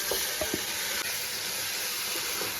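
Chicken pieces with biryani masala fry in a pan, a constant hissing sizzle with a few soft stirring knocks near the start, heard alone at moderate level.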